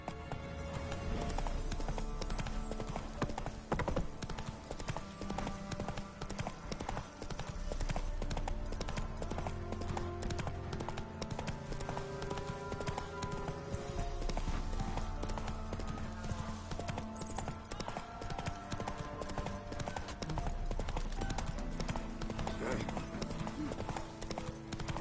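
Roach, the horse in The Witcher 3, gallops with rapid, even clip-clop hoofbeats that run throughout beneath steady game music and occasional voices.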